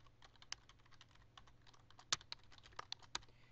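Quiet, irregular clicking of keys being typed on a computer keyboard, a few keystrokes landing sharper and louder than the rest, with no one talking.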